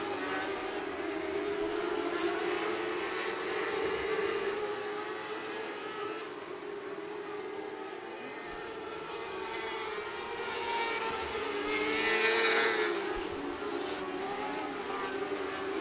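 USAC AMSOIL National Sprint Cars racing at Tri-State Speedway: a loud, continuous roar of engines holding a high drone across the whole stretch, swelling and fading as cars pass, with no talk over it.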